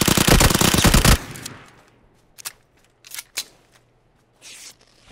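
Sustained automatic gunfire in the video game PUBG blasts loudly for about a second, then cuts off, followed by a few sparse distant shots and faint clatter.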